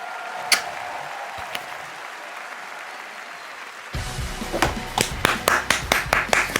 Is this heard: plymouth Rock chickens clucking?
no